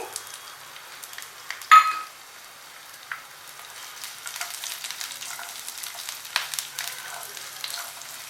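Two peeled garlic cloves fry in hot oil in a pan with a steady, close crackling sizzle; a brief louder pop comes early, then the sputtering continues unbroken.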